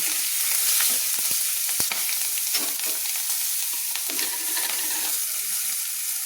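Slit green chillies drop into hot oil with bay leaves, giving a steady, loud crackling sizzle with a few sharp pops and spoon scrapes, close up and with no talking.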